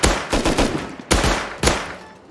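Gunfire in the Rust video game: a quick rapid burst of shots followed by two separate loud single reports, each with a short echoing decay, no voices.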